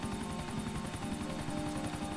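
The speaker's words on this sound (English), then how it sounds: "What you want to do here is try and crash land the helicopter right into the garage." Helicopter rotor chop in GTA 4, a steady rapid beating with a constant engine whine, loud and continuous throughout with no talk.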